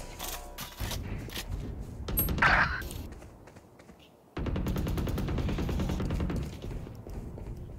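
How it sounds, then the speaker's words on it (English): A weapon reloading in the video game Deadlock, with mechanical clicks and clacks among bursts of rapid gunfire, a brief pause, then sustained firing resuming close and loud. "Reloading."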